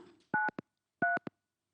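Two short bursts of telephone keypad dialing tones sound close and clear in otherwise silent surroundings, each burst made of a longer tone followed by a quick brief one.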